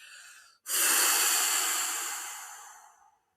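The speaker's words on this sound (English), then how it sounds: "literally breathe out through your mouth. So you sound like the sea, like the waves going out." One long, slow breath out through the mouth, an airy whoosh that starts strong and gradually fades over a few seconds, close and alone.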